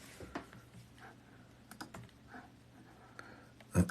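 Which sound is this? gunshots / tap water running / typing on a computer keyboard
typing on a computer keyboard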